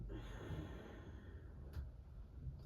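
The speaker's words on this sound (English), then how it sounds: "you can sigh or take that ocean sound through the nose" Soft, steady breathing, a slow exhale through the nose in ocean-breath style during a short yoga practice, quiet and close with a brief puff near the middle.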